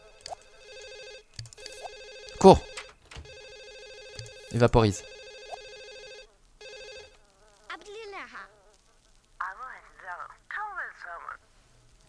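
Telephone ringing inside The Sims game, a repeated electronic ring in short bursts, with brief Simlish-style game voices and a French speaker's voice at times.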